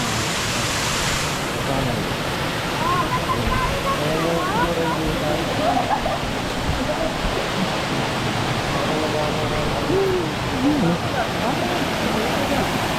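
Steady rushing water pours continuously out of a mine tunnel, a broad roar filling the scene, with voices talking faintly over it.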